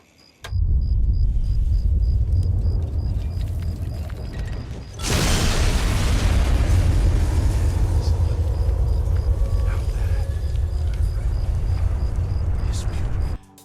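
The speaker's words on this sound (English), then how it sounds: "Nuking Megaton, Fallout 3." Nuclear bomb detonating over the town of Megaton in Fallout 3: a sudden massive boom bursts in after a low droning rumble, then a sustained roaring blast rolls on loudly for several seconds.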